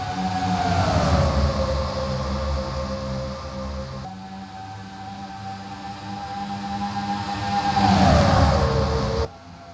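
Stock cars at the start of a 2009 Shining Stars Series race at Chicagoland roar with a loud, sustained engine drone, the pitch sweeping down as the pack passes early on and again near the end.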